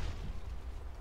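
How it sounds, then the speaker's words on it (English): Rumbling, low booming explosion from the Tremor weapon effect in the Rise of the Reds mod for a real-time strategy game, a continuous deep roar lasting about a second, fairly quiet and unaccompanied by talk. "Will they change the Tremor explosion effect?"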